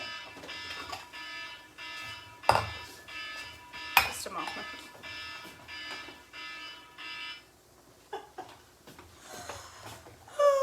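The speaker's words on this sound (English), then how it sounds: "That was my husband's alarm going off." A repeating electronic alarm beeps in steady pulses, with sharp clatters and a brief voice speaking over it.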